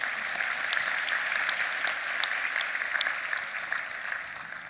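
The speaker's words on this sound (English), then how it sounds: "we give them a round of applause as well, if you don't mind." Audience applause at the Dubai Future Forum 2022, a steady, even wash of many hands clapping with scattered sharper claps, sustained at moderate level for the whole stretch with no talking over it.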